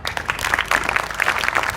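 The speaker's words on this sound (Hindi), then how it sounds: "ताली बजाते रहो" Students at an inter college in Hafizpur, Azamgarh clap together in a steady crowd of dense, overlapping claps that stay loud and even throughout.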